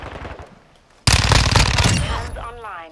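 Rapid full-auto bursts from a Fennec 45 SMG in Modern Warfare 2 rattle loud and close after a quiet moment, with a voice talking briefly before the firing begins.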